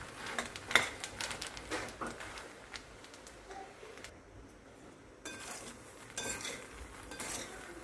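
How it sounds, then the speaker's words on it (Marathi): A metal spoon stirs puffed sorghum with salt and oil tempering in a pan, giving close, irregular clinks and scrapes against the metal at a moderate level. "आता यामध्ये ह्या ज्वारीच्या लाया घालून घेऊ आणि चांगलं मिक्स करून घेऊ"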